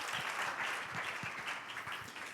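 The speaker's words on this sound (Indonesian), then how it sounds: "Beri tepuk tangan yang meriah bagi Tuhan kita" Congregation applause during a Sunday church service, a fairly soft, steady rush of many hands clapping, with some individual claps standing out as distinct thuds, continuous throughout.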